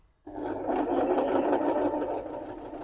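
A sewing machine runs steadily as it stitches a four-step buttonhole, a close, even mechanical whir with a rapid rhythmic ticking of the needle that starts abruptly and continues without pause.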